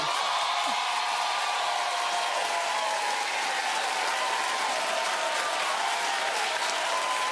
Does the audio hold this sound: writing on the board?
no